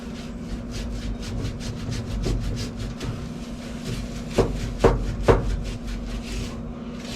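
A cloth wipes excess cooking spray from the inside of a Pit Boss grill in quick repeated rubbing strokes, ending with a few louder knocks against the solid metal body.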